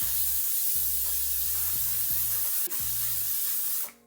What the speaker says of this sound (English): I just have to protect my hair before putting on the setting spray